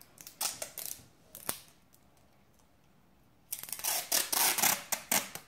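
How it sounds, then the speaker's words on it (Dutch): Sticky tape being pulled and pressed over small holes in a homemade minion salt and pepper shaker, a few short crackling rips, a quiet pause, then a denser run of close, loud tape-peeling bursts. "En dan gaan we hem afplakken. Met plakband."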